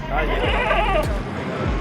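A goat bleats with a wavering cry at the crowded Shahpur Kanjra livestock market in Lahore, heard under someone talking loudly nearby with market clatter in the background.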